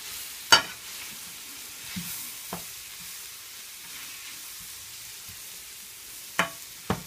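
Dry spices sizzle in a pan for a home-style chicken curry, giving a soft, steady frying hiss broken by a few sharp scrapes and clinks of stirring.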